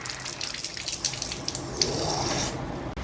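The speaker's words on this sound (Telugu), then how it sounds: "ఈ బాటిల్లో మనం వాటర్ నింపుకుందామండి. వాటర్ ఫుల్గా పెట్టండి బాటిల్ నిండానే." Tap water runs into a 1 litre Thums Up plastic bottle, a steady close stream with small splashes and gurgles that stops abruptly near the end.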